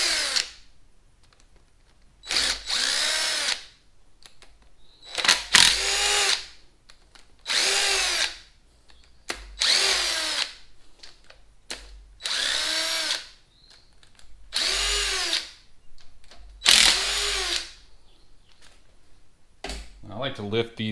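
Power tool driving an 8 mm socket to remove rocker arms on a Chevy 4.3 engine, in about nine loud whirring bursts, each a second or two long with short gaps between and some faint clicks.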